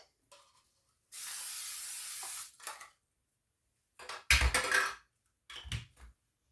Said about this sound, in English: And you're going to spray